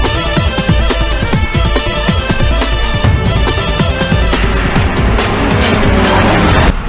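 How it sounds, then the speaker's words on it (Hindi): A car drives along a narrow, winding mountain road in Uttarakhand, leaving Ranikhet for Kainchi Dham. Its steady, loud road and engine noise runs without a break for about seven seconds, with no talking. "गाड़ी हमने शुरू कर ली"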